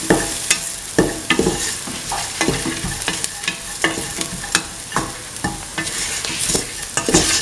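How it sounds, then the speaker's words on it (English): Scrambled egg and bell pepper stir fry sautéed with salt in a pan: rhythmic spatula scrapes and taps over a constant sizzle, close and fairly loud, no voices. "Saute them. Saute and mix salt into the mix."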